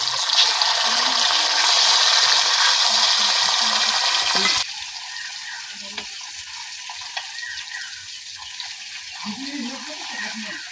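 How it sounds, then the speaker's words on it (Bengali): Pabda fish frying in hot oil in a kadai for a village-style recipe: a loud, steady sizzle that drops abruptly to a quieter crackle partway through, with faint clinks of stirring. "মাছগুলো উল্টায় পাল্টায় আমি ভাজা নিচ্ছি।"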